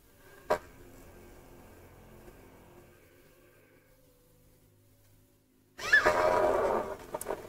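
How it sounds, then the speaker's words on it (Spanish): After a sharp click and a long quiet stretch, a loud, rough video game roar suddenly erupts and rumbles on for about two seconds. "O se escucha como una especie de rugido de fondo."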